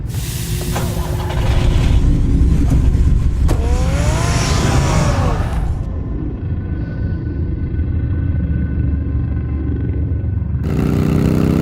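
A car engine in the Batman Telltale game revs loudly with rising and falling pitch sweeps, rumbling under music and effects, then drops to a low idle before surging again at the end.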